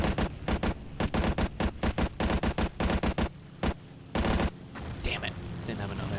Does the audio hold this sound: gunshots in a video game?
yes